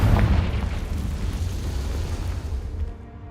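A fiery Confringo spell blast in Hogwarts Legacy gameplay bursts with a loud, close boom, then rumbles in a sustained low roar that slowly fades over a few seconds, with no talking.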